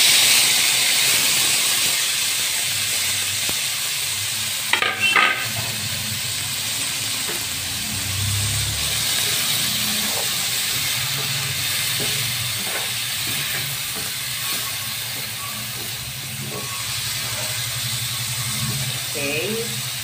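Tomatoes sizzle with garlic in a pan for a Filipino tomato and dried fish dish: a steady, close broadband hiss with a few brief clatters partway through.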